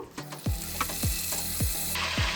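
Curry leaves drop into hot oil and sizzle, with a crackling hiss and a few rhythmic scraping strokes, close and fairly loud over a short stretch.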